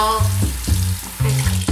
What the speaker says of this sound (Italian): Andiamo a riempire le pistole d'acqua.